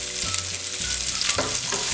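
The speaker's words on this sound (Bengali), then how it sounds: "পেঁয়াজটাকে আমি লাল লাল করে ভেজে নেব।" Thinly sliced onion fries in hot oil for khichuri, a steady close sizzle broken by a few soft stirring clinks and scrapes, with no talking.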